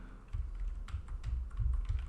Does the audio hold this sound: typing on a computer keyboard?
yes